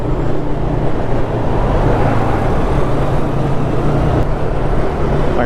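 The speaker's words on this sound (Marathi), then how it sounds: "पण टनलमध्ये गाडीचा आवाज एवढा भारी येतो ना" A Yamaha MT motorcycle's exhaust roars steadily inside an unlit road tunnel, a continuous loud, booming rumble with a deep low drone that holds unbroken throughout.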